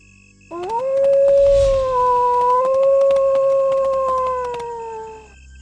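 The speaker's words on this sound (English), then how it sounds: "I suddenly heard a long howling sound that sent shivers up my spine." A single long, steady howl rises at the start and holds for several seconds before fading, clear and fairly close, with faint clicks behind it.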